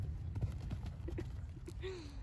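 Horse hooves clip-clop at a canter on a show-jumping course, a rhythmic run of soft, fairly faint thuds with a brief whinny-like tone near the end, no talk over it.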